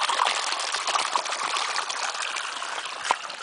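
Spring water at Ripton, Vermont runs in a steady, close rushing trickle and gush, continuous throughout with small splashes and no voices.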